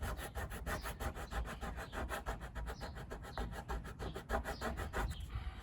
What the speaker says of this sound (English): Giving it a scrape.